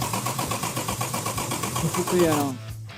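Jaguar XK 120 OTS engine cranked on the starter to build oil pressure: a fast, steady, rhythmic churning for about two and a half seconds that then cuts off, with a voice briefly heard over it.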